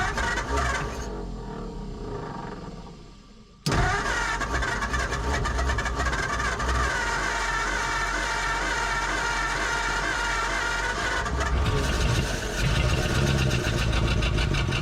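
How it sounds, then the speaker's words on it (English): A 1947 Ford coupe's flathead V8, stuck float and all, grinds over on a weak 6-volt starter, a steady laboring crank that cuts out, then resumes loudly and continues, with a voice speaking over it. "Come on, little 6-volt starter, be strong."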